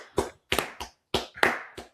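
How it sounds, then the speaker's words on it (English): Hands clap five or six times in an uneven rhythm, close and crisp with short silent gaps between claps, no talk. "I'm going to keep clapping until you clap"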